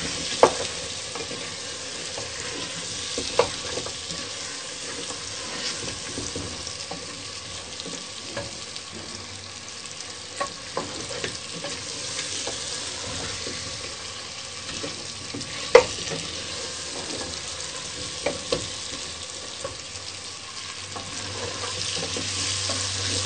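Potatoes fry and sizzle in a pan for aloo matar sabzi, a steady crackling hiss that runs throughout, with occasional scrapes and taps as they are stirred.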